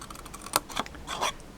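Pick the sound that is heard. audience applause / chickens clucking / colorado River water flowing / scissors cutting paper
scissors cutting paper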